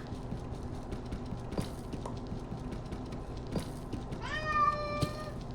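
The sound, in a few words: cat meowing loudly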